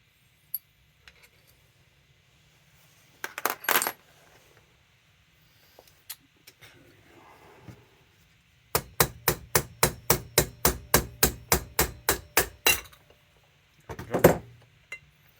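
Bolts being removed from a Mopar Holley carburetor, with scattered metallic clinks and a long fast run of evenly spaced ratcheting clicks, close and crisp against a quiet background.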